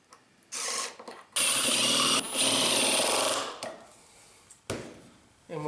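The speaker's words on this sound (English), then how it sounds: "Now I like to go ahead and drop my screws in the pocket holes" Power drill driving screws into pocket holes in wooden pieces for a chevron end table, heard as several loud, close bursts of whirring separated by short pauses, with no talking.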